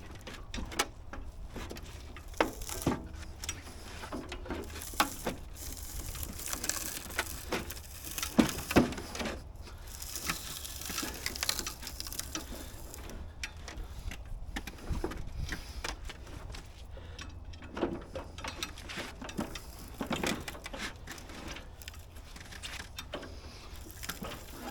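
Sugarcane stalks forced through a juicing press, giving close, continuous creaking and grinding with splintering crunches and irregular cracks as the fibrous cane is crushed, with no talking.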